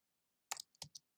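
A few soft, quick key clicks as a command is typed on a computer keyboard, faint and close, spaced in small bursts after a short silence.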